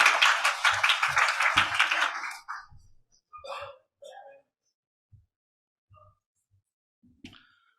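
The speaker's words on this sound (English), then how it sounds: "let's give a round of applause for our panel" Audience applause for a panel at a language and education forum: dense, steady clapping for about two seconds, then fading quickly into a few scattered claps and small sounds.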